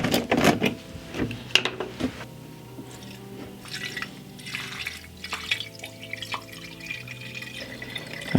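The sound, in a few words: distilled water poured into the car's cooling system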